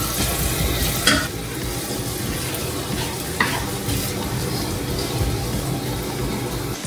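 Garlic and onions sauté in avocado oil in a pan, a steady close sizzle and hiss with a couple of sharp clinks from stirring.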